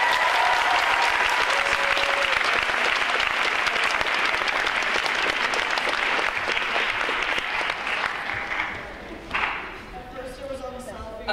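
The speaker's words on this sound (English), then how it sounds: "So can we give them one more round of applause?" An event audience applauds loudly and continuously for about nine seconds before the clapping thins out and a voice begins speaking.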